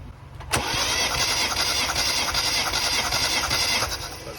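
Mini Cooper S Clubman engine cranking steadily on the starter during a compression test, a sharp onset followed by a continuous loud, even churning whir that runs unbroken for several seconds.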